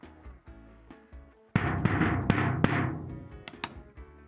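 A homemade tom drum built from a plant pot, turnbuckles, garden hose and a drafting-film head rings out in a few soft hits, then a loud booming strike with quick follow-up hits that sustain and decay, heard alone.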